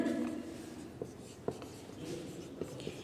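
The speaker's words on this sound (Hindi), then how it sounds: "एक सेकंड में यहाँ लिखती हूँ नीचे" Marker or chalk writing on a board during a chemistry lecture, faint scattered taps and strokes over a quiet room.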